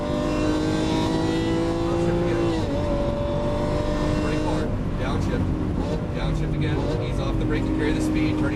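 A Lamborghini Aventador pulls hard around a race track, its engine note rising and shifting through upshifts, loud and close, while an instructor's voice coaches over it.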